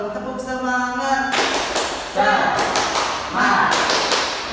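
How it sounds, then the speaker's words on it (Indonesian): Schoolchildren in a classroom doing the tepuk semangat clapping game, with a voice speaking first and then bursts of rhythmic clapping and tapping that rise loud and close, stopping and starting in a few rounds. "Jadi kita akan bermain tepuk semangat."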